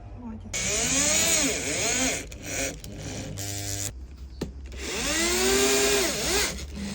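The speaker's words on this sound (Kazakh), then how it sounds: "біз алдымен осындай кішкене сверломен тесеміз, сосын шуруп саламыз" A small drill bit whines through wood, boring pilot holes for screws while kitchen cabinets are fitted in a camper van; two long, loud rising-and-falling drill runs with a short pause between, close by, and a voice speaks briefly in between.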